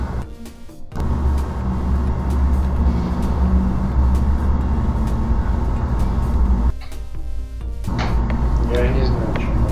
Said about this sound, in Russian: Слышно, как машины на улице едут.